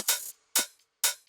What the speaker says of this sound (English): We also have some hi-hat rolls.